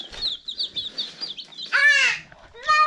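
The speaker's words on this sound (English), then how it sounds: "We have 20 Red Ranger meat birds." Red Ranger meat chickens cluck in a series of short, close calls, rising to a louder drawn-out squawk near the end.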